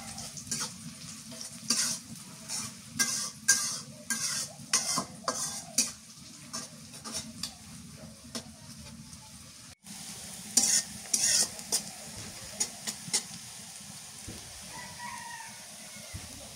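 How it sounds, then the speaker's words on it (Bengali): Onions fry in a pan while a spoon stirs them in repeated scraping strokes over a soft sizzle, cooking outdoors on a village winter morning, with a rooster crowing in the background and a short break partway through. "পেঁয়াজ ভাজা হয়ে গেছে, রসুন বাটা দিয়ে দিই।"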